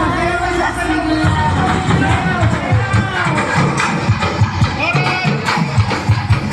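A festive crowd at a Pasig anniversary celebration roars with cheers and shouts, a dense, loud wall of voices and hubbub that runs steadily throughout with no single speaker standing out.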